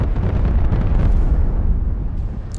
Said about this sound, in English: Wow, a lot of bombs.